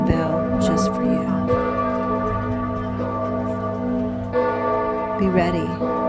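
Church bells ring steadily with long overlapping resonant tones, while a voice speaks quietly over them.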